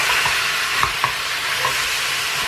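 Mutton pieces sizzle and fry over high heat in a pan with garlic and ginger for a roadside-style Kashmiri rogan josh, a steady loud hiss broken by a couple of stirring scrapes.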